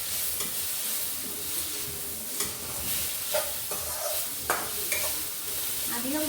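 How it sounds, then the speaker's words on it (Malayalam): Beef curry masala being sautéed in a pan, a steady sizzle with repeated scraping and stirring strokes from a utensil, close and continuous throughout. "ഇതെല്ലാം വഴറ്റിയെടുത്തിട്ടുണ്ട് കേട്ടോ"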